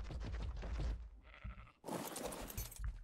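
A goat in the survival video game ARK bleats in short wavering calls, followed by a louder, harsher noisy burst, all near and fairly quiet, with no talk over it.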